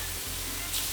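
Onions hit a hot pan, a loud, close hiss of sizzling that holds steady and swells briefly near the end, with no one talking.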